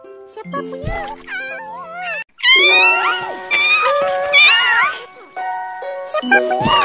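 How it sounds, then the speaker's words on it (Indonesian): Several cats meow repeatedly, some high and plaintive, overlapping in quick succession, loud and close, with a chiming tone at times. "Aku sama Meme nyelamatin kucing ini."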